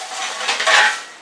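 A metal camping plate clinks and scrapes briefly, close and fairly loud, with no voices.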